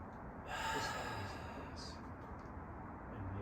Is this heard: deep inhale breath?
yes